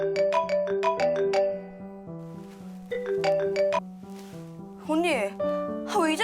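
A mobile phone ringtone for an incoming evening call plays a looping electronic melody of bright repeated tones, loud and close, with no talk over it.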